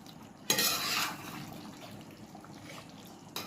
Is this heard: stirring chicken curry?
yes